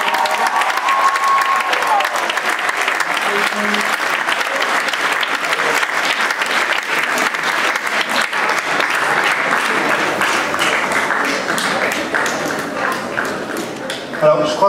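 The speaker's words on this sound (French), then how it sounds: "on applaudit encore une fois Viviane." Sustained applause from a conference audience after a mathematics talk, dense rapid clapping that holds steady for many seconds before thinning toward the end.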